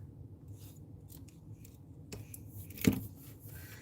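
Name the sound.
scissors cutting burlap ribbon for bow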